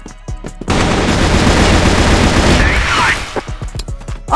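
A loud, sustained burst of rapid automatic gunfire in the game CrossFire, followed by a whooshing sweep and a few sharper single shots near the end.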